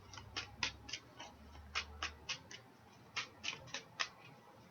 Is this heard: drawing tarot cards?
yes